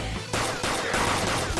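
Gunfire from a gun attack in Persona 5 Royal comes as several loud, rapid bursts in quick succession, filling the whole moment.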